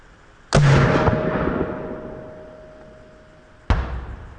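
A can cannon firing a can toward a backstop about 50 yards away: a sharp loud blast with a long fading echo, then a second distinct bang a few seconds later.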